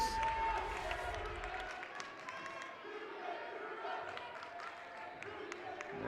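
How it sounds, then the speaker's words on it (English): A student section of fans shouts a rhythmic chant at a 2015 CIF Southern Section playoff volleyball match, a loud crowd roar with a commentator talking over it. "the good old "you can't do that" cheer from the Fanatics"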